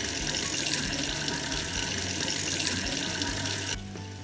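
Water running from an open tap into a sink, a steady, dense hiss and splash that continues evenly before cutting off abruptly near the end.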